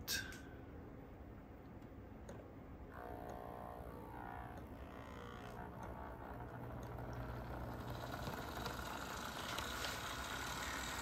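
An Atlas GP38 model train locomotive runs steadily around the track with a faint, slightly grindy motor whine, continuous and quiet in a low background hum.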